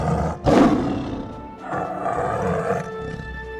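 A tiger roars loudly and close, one burst rising to a strong peak then a second long, rough roar trailing off, alone with no talk.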